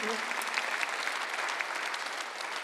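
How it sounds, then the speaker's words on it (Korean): Applause from a church congregation during a Sunday worship service, a steady even wash of clapping that holds for the whole stretch, with a voice briefly audible at the very start. "박수 한번 드리세요."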